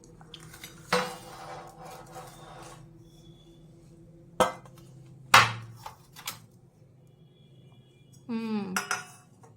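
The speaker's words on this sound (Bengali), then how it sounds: "আমার ছেলে এখন আমাকে সাজিয়ে দেবে প্লেট" Plates and bowls are laid out on a dining table at home, with sharp ceramic clinks and clatters coming in scattered bursts, plus a soft pouring or scraping near the end.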